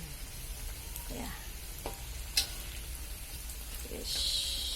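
Tempeh frying in a pan, with a steady sizzle and crackle throughout, a few louder pops and stirring scrapes, and a brighter hiss swelling near the end.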